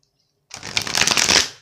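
Tarot cards being shuffled, a dense continuous riffle of crisp card-on-card flutter that starts abruptly after a brief silence and fades out at the end, close and fairly loud with no talking.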